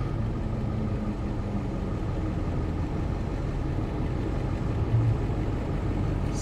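A truck engine fitted with a KC300X turbo runs under 15 to 18 pounds of boost, giving a steady, loud, low droning roar that holds an even level throughout, with no clear rise or fall in pitch.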